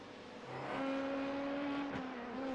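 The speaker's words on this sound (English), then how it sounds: "it's pretty much a lawnmower sound from that Audi" A thin, buzzy Audi race car engine in a sim racing game at the Nürburgring holds a steady drone with a slight rise in pitch, sounding small and lawnmower-like, continuous and fairly close without talk.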